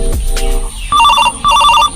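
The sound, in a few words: mobile phone ringtone ringing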